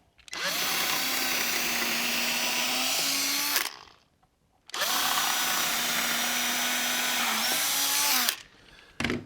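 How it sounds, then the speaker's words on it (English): A power drill bores pilot holes for lag bolts into wood while a picnic table is built, running in two long, loud, close whirring bursts with a short silent gap between them. "Next up, we're going to be using a pilot hole for our lag bolts."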